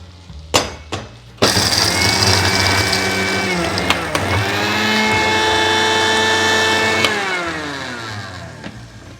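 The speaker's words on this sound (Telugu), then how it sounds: "దీన్ని పౌడర్ చేసుకుంటాను ఇప్పుడు దీంట్లో ముందుగానే తయారు చేసుకున్న ఫ్రై చేసి డ్రై రోస్ట్ చేసి పెట్టుకున్న నువ్వులు పల్లీలు" Mixer grinder powdering dry-roasted sesame seeds and peanuts, starting with two short pulses, then a loud steady whirring run that shifts pitch partway through and winds down at the end.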